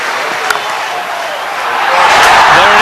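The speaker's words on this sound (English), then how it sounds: "if he does go to 100, this crowd will erupt" Cricket crowd at a South Africa versus Australia one-day international cheering as Herschel Gibbs reaches his century, a broad roar swelling louder near the end after a steadier murmur.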